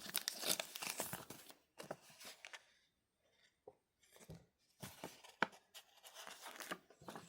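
A sticker peeled from its backing and pressed onto a page of a Muji monthly schedule diary, heard as close, soft crinkling and tearing rustles in several short bursts separated by quiet gaps.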